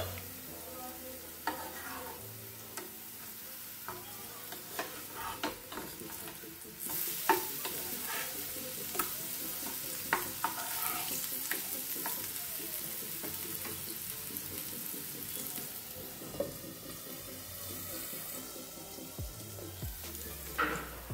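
Bottle gourd pieces fry gently in a covered pan over a low flame, giving a soft, continuous crackling sizzle with occasional clinks and stirring scrapes. Quiet and close throughout, with no one talking.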